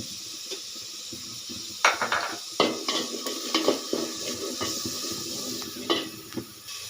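Chal kumra, ash gourd, with chicken and spices being stirred in a pan: irregular scraping knocks of a utensil against metal over a soft sizzle, close and fairly loud, with no voices.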